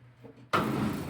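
A car door on a 1967 Alfa Romeo Stepnose opens with one abrupt, loud mechanical clunk after a quiet moment, followed by a sustained rush of close handling noise.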